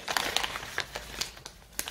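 Paper pouch being torn open by hand, a close series of crisp crinkling and ripping bursts at an uneven rhythm, fairly quiet.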